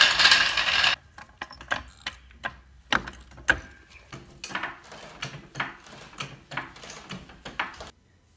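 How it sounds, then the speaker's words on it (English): Jack lifting a Subaru STI in a chilly garage with a heater running, making a series of sharp metallic clicks and clunks in an irregular rhythm, close and fairly loud with no talk. "now we'll just jack up the car real quick"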